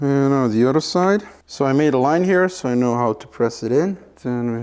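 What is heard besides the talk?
No everyday noises stand out.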